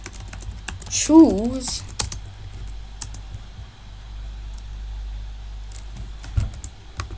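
Computer keyboard typing Python code for a rock-paper-scissors program, a light run of clicky keystrokes, briefly overlaid by a short spoken sound near the start, then sparse taps against quiet room hum.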